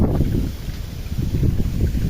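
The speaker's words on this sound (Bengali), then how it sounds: "এই দেখেন কি বাতাস।" Strong Cyclone Remal winds buffet and roar outdoors in low, rumbling gusts that rise and fall continuously, with no voices.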